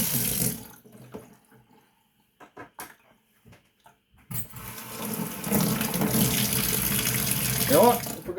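A Schick Injector razor is rinsed under a running tap, water splashing briefly, then a few faint knocks and handling sounds, then a long steady gush of running water close by.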